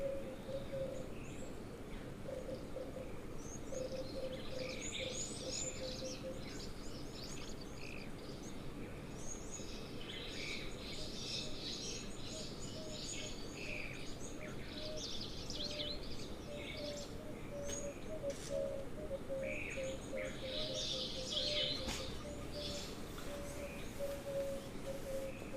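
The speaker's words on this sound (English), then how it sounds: "Sounds like emerald spotted wood doves calling there." Emerald-spotted wood doves calling faintly at an outdoor waterhole, soft descending coos amid a dense, steady chorus of frogs croaking and other distant birds.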